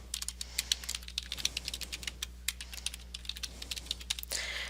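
Quick bursts of keystrokes clatter on a computer keyboard during form entry, irregular clicks in short runs separated by brief pauses, close and fairly quiet over a low steady hum.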